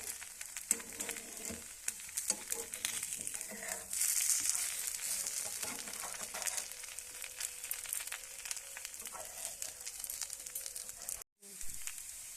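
Spinach chakli pitha frying in a pan gives a steady sizzle and crackle of hot oil throughout, with a brief near-silent gap close to the end before the frying resumes.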